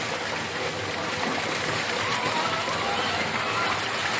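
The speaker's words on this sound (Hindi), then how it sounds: "ये माशाल्लाह से पानी" Cold water running on a farm, a steady, full rushing wash like a flowing channel or outlet, loud and close throughout with no breaks.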